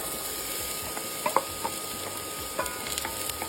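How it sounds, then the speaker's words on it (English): Onion sizzling in oil in a pan, a steady close crackle with a few scraping stirs and small pops. "frying in olive oil, 1 onion."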